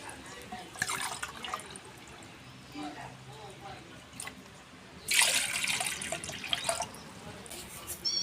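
Water is poured into a glass tumbler in short bursts, splashing and trickling at close range, with a longer louder pour partway through and quiet moments between.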